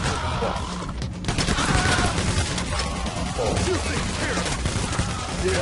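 Gunfire in the heist game Payday, a dense, loud clatter of rapid shots and impacts running throughout, mixed with speech from players.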